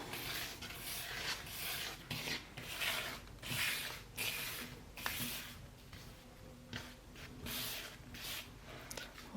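Flour, salt and seeds being stirred together in a large bowl for samosa dough, giving soft, irregular rubbing and scraping strokes, close and fairly quiet, in a repeated rhythm.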